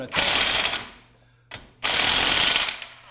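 Impact wrench tightening the 30 millimeter front axle nut on a Yamaha 660 Grizzly ATV, two loud rattling hammering bursts separated by a short pause and a brief blip, close up.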